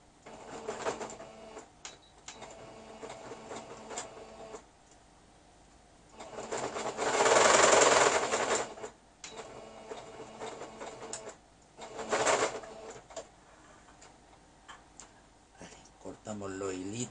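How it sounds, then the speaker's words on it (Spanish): A sewing machine stitches fabric placemats in two short bursts, a longer run followed by a brief one, rattling close by between stretches of quieter handling. "Ahora lo cosemos."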